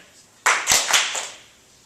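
Audience members clap together in a classroom-style fixed versus growth mindset game, producing a short burst of a few loud, crisp claps that ring briefly and then fade.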